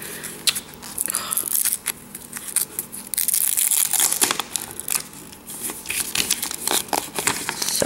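A food package is torn open slowly, giving crinkly plastic rustles and ripping bursts in uneven spurts, close and fairly loud, with no speech.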